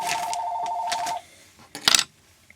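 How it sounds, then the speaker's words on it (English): A phone rings in a quiet room during bucktail fly tying: a steady electronic ring tone that lasts about a second, then a short burst of clatter. "And my phone is ringing"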